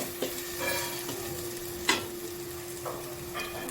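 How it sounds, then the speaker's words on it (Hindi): Boiled chickpeas are stirred into masala frying in oil, with a soft steady sizzle under spoon scrapes, one sharper clunk of the spoon near two seconds and a few lighter strokes later. "अब हम इसमें चने डालेंगे"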